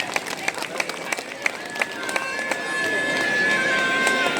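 Scattered individual claps swell into steady audience applause as a music director is honoured at a ceremony, with voices talking over the clapping throughout.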